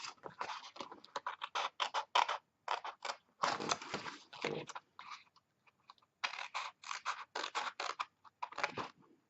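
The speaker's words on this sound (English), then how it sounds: "So what we do now is we're just cutting up those boxes" Scissors cutting through patterned paper boxes for a handmade gift bag, with rapid crisp snipping strokes in bursts and a few brief pauses, close and distinct, with no talking.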